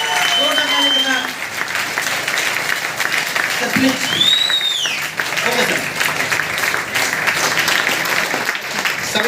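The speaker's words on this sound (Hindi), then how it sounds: "पीछे वाले जोरदार ताली के साथ, जोरदार ताली के साथ" An audience at a network marketing seminar applauds loudly and steadily, a dense wash of clapping that stays up throughout, with a brief spoken reply and a few voices heard through it.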